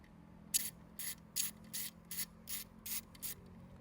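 About eight evenly spaced bursts of clicking come from a ratchet wrench fitted with an extension and a 10 mm socket, turning a short bolt on a Royal Enfield Continental GT 650. The clicks are close and quiet, with no talking.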